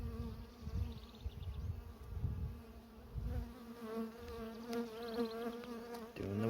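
Honeybees buzz steadily and fairly close during a hive inspection, a dense continuous drone with a wavering pitch that runs throughout.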